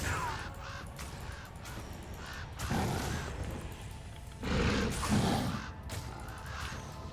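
Ravens in a video game caw in harsh bursts, several loud croaking calls spaced a second or two apart over quieter game sounds.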